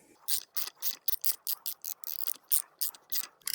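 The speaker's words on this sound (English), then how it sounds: "Now I use my ratchet wrench and my 24mm top to mount the top cap again." A ratchet wrench with a 24mm socket tightening the top cap on a Rockshox Reba bicycle fork, a close, crisp run of rapid clicking bursts in a steady back-and-forth rhythm, with no talking.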